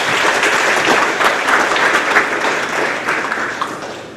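An audience applauds honor roll students at a grades 4-6 school awards ceremony, with dense, steady clapping from many hands that fills the room at an even level throughout, no speech over it.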